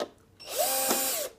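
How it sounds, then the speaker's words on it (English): A power drill whirs steadily as it loosens screws on a hoverboard during a lithium battery replacement, rising after a short quiet start and running loud for about a second before stopping. "Drill is real nice to have with this replacing the battery."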